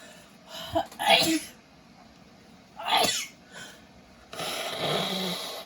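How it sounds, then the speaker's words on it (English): A person blows their nose in a few forceful, snorting bursts, with sniffles between and a longer honking blow at the end. "I have to blow my nose."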